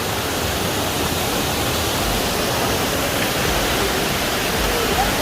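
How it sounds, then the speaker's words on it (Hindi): A large mountain waterfall on the Madmaheshwar trek roars close by as a dense, unbroken hiss of rushing water that stays constant throughout. "बहुत बड़ा झरना है, सुंदर भी है।"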